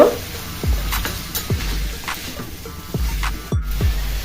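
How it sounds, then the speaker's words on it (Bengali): Ash gourd pieces with spice paste, turmeric and salt are stirred in a pan, each sweep giving a soft thud and scrape over a faint sizzle, close, roughly every half second. "দিয়ে ভালো করে মিশিয়ে নিব"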